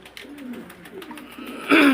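Pigeons from a set of five pairs coo in a soft, rolling series that swells louder near the end, close by and without talk.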